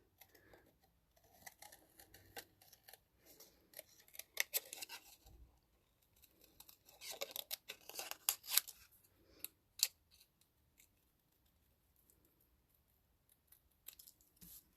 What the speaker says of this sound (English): I'm going to fussy cut these out, but I'm actually going to cut them just a little bit smaller than they were intended